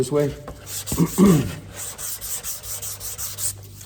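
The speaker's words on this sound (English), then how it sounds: "so I can show you how fast this primer will sand out" Block sanding 180-grit across primer surfacer on a car panel in a crisscross pattern, producing a rhythmic, close, raspy rubbing with short strokes repeating steadily, with a brief voice near the start.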